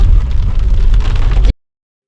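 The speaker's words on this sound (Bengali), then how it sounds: "আর আমরা যেতে যেতে অলরেডি বৃষ্টি স্টার্ট হয়ে গেল" Rain falls during a mountain road trip near Kalimpong, a loud, dense rumbling wash with heavy low-end buffeting, continuous for about a second and a half before cutting off abruptly.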